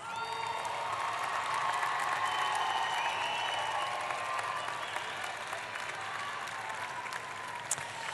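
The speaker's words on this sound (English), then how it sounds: "let's give your supporters and family a big round of applause" An arena audience at a university spring commencement ceremony applauds a graduate's supporters and family, a dense, sustained clapping with scattered cheers and whoops, steady throughout and slightly distant.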